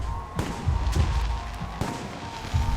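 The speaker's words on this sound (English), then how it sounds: "The noise from those fireworks should cover the sound of gunfire." Fireworks burst in the video game Alpha Protocol. Several sharp, loud cracks and booming thumps go off at uneven intervals over a steady background hum, with no talk.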